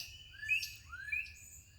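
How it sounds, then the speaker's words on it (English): Small birds chirp outdoors in a backyard in a few quick, high-pitched calls, with a faint low hum of background noise underneath. "Can you hear the birds in my backyard?"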